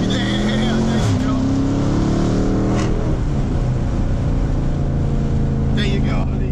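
A car engine accelerates hard in second gear, a loud continuous roar whose pitch sweeps up and drops at gear changes, with voices talking over it.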